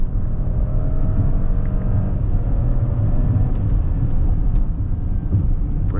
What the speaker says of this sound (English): You can definitely hear the V6, you know, revving up and singing. It's a bit throaty.